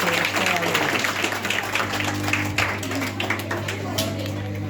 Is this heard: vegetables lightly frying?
no